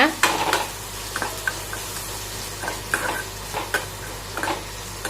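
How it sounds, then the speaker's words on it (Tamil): Sliced onions with a pinch of salt stir-fried in a pan for a brinjal poriyal, with a soft steady sizzle beneath repeated scraping strokes of a spatula against the metal. "வெங்காயம் வதங்கிறதுக்கு சும்மா கொஞ்சம் வந்து உப்பு போட்டுக்கோங்க நல்லா வந்து வதக்கி விடுங்க"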